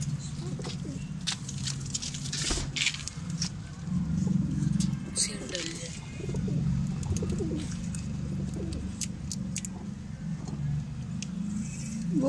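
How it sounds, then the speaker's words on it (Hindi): Soft pigeon cooing and fluttering in a busy outdoor spot, with faint background noise and occasional light patter throughout. "ये देखें ये सारी एक फैमिली है कबूतरों की"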